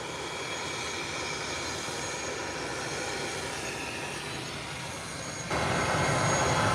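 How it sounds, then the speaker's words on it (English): ATR 43 turboprop airliner at an airport, a steady broadband engine roar and whine as it prepares for departure after pushback, continuous and fairly distant, swelling slightly louder near the end. "this ATR 43 has now pushed back and preparing to take its departure"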